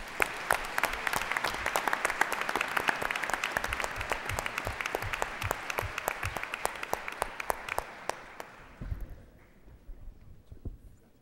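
Sustained applause fills a board meeting room, many hands clapping steadily at close range for about nine seconds before thinning and fading out into near quiet.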